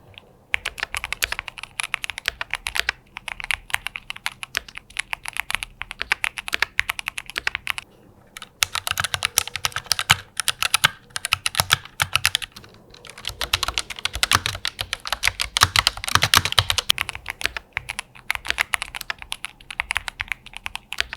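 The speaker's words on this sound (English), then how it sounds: "Here's a quick sound sample comparing it to the GMMK Pro with a linear Fox switch and the Asus Claimer 2, which uses Asus in-house linear red switches." Rapid continuous typing on mechanical keyboards with linear switches, a GMMK Pro with linear Fox switches and an Asus Claymore 2 with Asus linear red switches, dense clacking keystrokes in bursts with brief pauses between passages.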